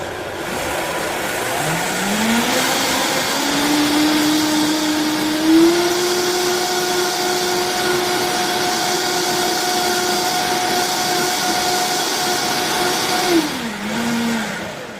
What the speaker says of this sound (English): And then we're just going to blend this up.